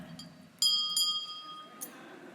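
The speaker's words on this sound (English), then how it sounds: "When you hear that bell ringing, it means that I need your attention." A small handbell rung once at a high-level summit session, a bright ringing strike that sustains and fades, with a second strike and quiet room noise around it.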